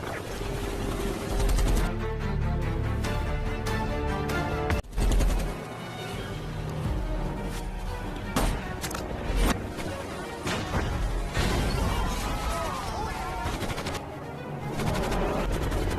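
Film gunfire from an attacking helicopter: dense, loud bursts of shots and crashing impacts over a driving action soundtrack, with a sharp cut near the five-second mark and steady intensity throughout.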